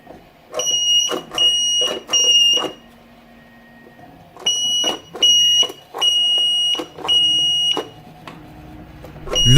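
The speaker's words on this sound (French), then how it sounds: "Le buzzer est plutôt audible" A buzzer on a 3D-printed airsoft sound mine gives off loud, shrill electronic beeps in steady bursts, pausing briefly between groups.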